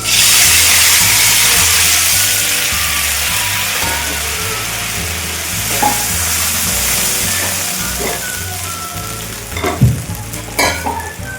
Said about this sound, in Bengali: এখন আমি দিয়ে দেবো এই যে তেঁতুলের জলটা বলে রেখেছিলাম, ওটা দিয়ে দেবো।